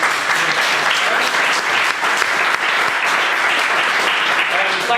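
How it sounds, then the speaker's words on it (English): An indoor audience at a digital industry lunch panel event gives sustained applause, dense steady clapping throughout with some voices mixed in. "so give yourselves all a round of applause if you deserve it"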